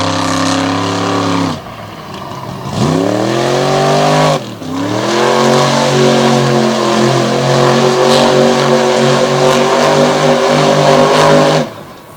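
Ford Super Duty monster truck at an outdoor monster truck show, its engine roaring loud and close through repeated revving surges that climb in pitch, with brief drops between bursts as it pops into a sky wheelie.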